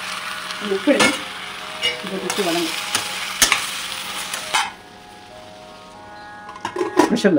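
Chopped country tomatoes sautéing in a pan for mushroom biryani, a steady sizzle broken by a few sharp scraping stirs, dropping to a quieter hiss partway through before more stirring clatter returns near the end.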